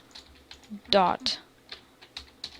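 Computer keyboard typing while writing code for a Bukkit server plugin: quick, close key clicks in short bursts, with one fuller flurry, under a man's ongoing speech.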